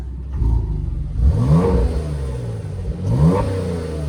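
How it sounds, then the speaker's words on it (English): A 2018 Porsche Macan GTS V6 blips twice with its sport exhaust valves open, revving up sharply with a deep exhaust growl, settling to idle between the bursts. "almost forgot to showcase the sport exhaust"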